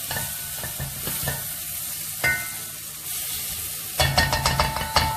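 Tomatoes and masala fry in a pan for a chicken dish, a continuous sizzle broken by scraping stirs, with a busier burst of clattering stirring near the end; no speech.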